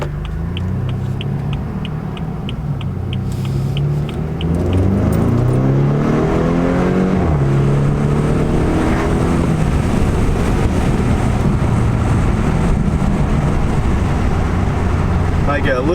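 A BMW 428i M-Sport with its muffler deleted drives hard, with a loud, close exhaust roar that climbs and falls through several gear changes; no one speaks.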